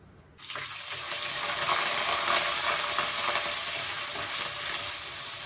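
Steady bubbling and hissing from a pan of vegetable kurma curry on the stove, a continuous simmering wash that starts abruptly and holds level throughout, no voices.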